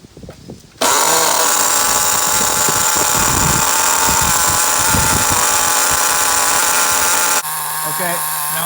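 A nitro-powered HPI RS4 3 Evo RC car with an SH-18 engine during break-in runs with a loud, steady, high-pitched buzzing whine for most of the clip, then drops abruptly to a lower idle near the end.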